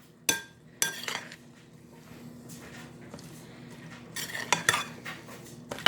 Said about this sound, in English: we're going to stir all these to combine